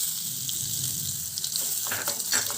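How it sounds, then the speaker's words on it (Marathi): Hot tadka is poured over raw green chili thecha, giving a steady close sizzle and crackle with a few sharper spits near the end and no voices. "मी याला छान असं मिक्स करणार हा तडका टाकून।"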